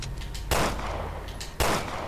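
Gunfire in Resident Evil Revelations 2: two loud, sharp shots about a second apart, each with a short, hard burst over a steady low game backdrop.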